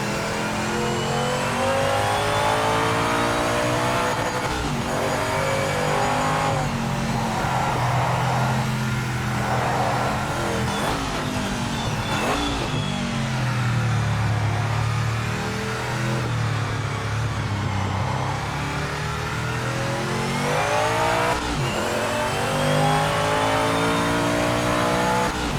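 A race car engine in the Project Motor Racing video game revs hard through the gears for a long stretch, the pitch rising and falling with quick shifts and a brief tire squeal, loud and continuous with no talk.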